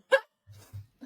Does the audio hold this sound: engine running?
no